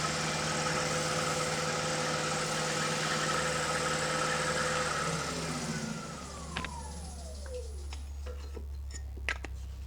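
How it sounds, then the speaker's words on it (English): A wood lathe spins a sycamore and oak pedestal bowl while gloss finish is applied, a loud steady motor hum that then winds down in falling pitch and stops, leaving faint clicks and handling noises. "I'll do this with the lathe spinning just to make a change."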